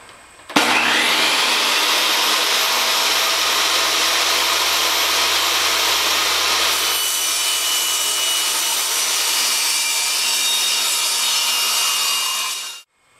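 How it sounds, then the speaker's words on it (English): Power saw cutting a wooden piece to size for a poster frame, one continuous loud whining cut that starts abruptly, holds steady for about twelve seconds with a slight shift midway, then spins down, close and with no talk. "now what we're going to do is just cut the piece out to size"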